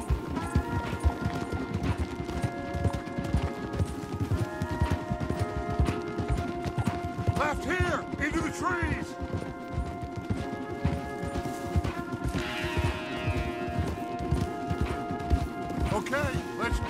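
Horses galloping in a western video game, a steady rapid clip-clop of hooves that runs throughout over a bed of music, with brief clatter and a voice heard near the middle.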